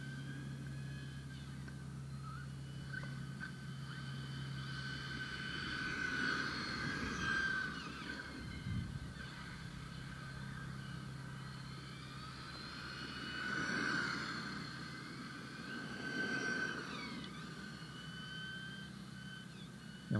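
HPI Trophy 3.5 nitro RC buggies race, their small high-revving engines whining in and out as they pass, swelling and fading twice at a moderate distance.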